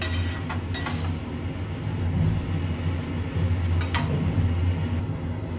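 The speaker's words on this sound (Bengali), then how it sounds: "এবারে এটাকেও আমি ভালো করে চিকেনের সঙ্গে নাড়াবো।" Chicken and sour yogurt being stirred in a pot: a spoon clinks sharply against the metal a few times over a steady low kitchen hum, with no talking.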